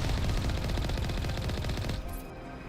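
Heavy turret gunfire in the Mass Effect video game, a loud, dense burst of rapid automatic shots that stops abruptly near the end, leaving a fading tail.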